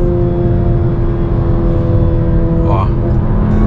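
Engine rumble from a VW Fusca with a TSI engine making over 300 wheel horsepower and a Magnaflow exhaust, a steady low drone with harmonic tones throughout and a brief rising sweep near the end.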